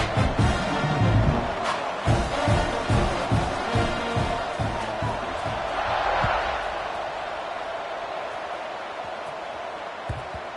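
Football stadium crowd at a college game, a broad roar of cheering with claps and shouts that stays loud at first and then slowly eases into a steady distant murmur.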